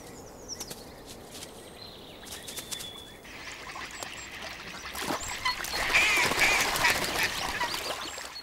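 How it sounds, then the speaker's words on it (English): Ducklings and coot chicks around a pond or lake fill the scene with steady high peeping and soft quacks, growing busier and louder toward the end. "Around ponds and lakes, things are getting busy. Little ducklings, coot chicks, all of them need to have their bellies filled."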